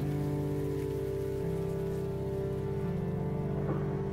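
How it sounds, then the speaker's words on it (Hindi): Steady rain pours down outside a home, a continuous even hiss with drops pattering and dripping from the windows, heard alone with no voices. "बारिश में तो गजब का शोर है"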